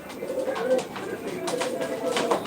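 Pigeons coo softly in low, repeated throaty calls at a live pigeon auction in Ankara, several birds close by, with a faint murmur of background noise.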